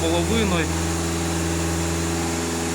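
A warmed-up Skoda Octavia Scout engine held at about 2,500 rpm, a steady mid-pitched hum with a faint whine, a voice briefly talking over it at the start.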